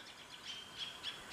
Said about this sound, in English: when you hear the birds chirping like that